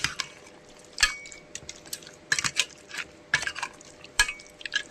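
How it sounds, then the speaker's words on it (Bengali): Mutton being mixed with spices and sour yogurt in a pot, soft wet stirring and squelching strokes in irregular bursts, close and fairly quiet. "আর ভালো করে আমি মাখিয়ে নেব"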